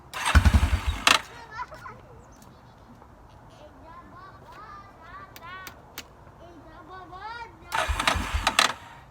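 A 2003 Coolster 125 engine is cranked with the choke pulled, giving two loud, near bursts of sputtering cranking at the start and end, separated by a quieter stretch where a person talks.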